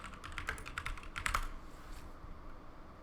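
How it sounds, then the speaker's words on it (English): Close, fairly quiet typing on a computer keyboard, a quick run of key clicks lasting about a second and a half before fading into a low room hum. "And what I'm going to do is go and type in"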